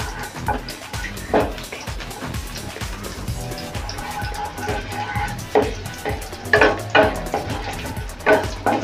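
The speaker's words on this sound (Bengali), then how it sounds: "প্রথমে আমি তেলটা গরম হয়ে যেই আসছে, আমি এই তেজপাতা দিয়ে দিলাম।" A bay leaf fries in hot oil in a pan, a loud close crackle and sizzle with clattering knocks of a utensil against the pan and no talk.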